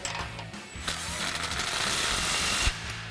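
A ratchet socket tool tightening the muffler outlet clamp on a single exhaust system for an EcoBoost F-150, producing a dense, continuous ratcheting whir with a few brief pauses, close and fairly loud.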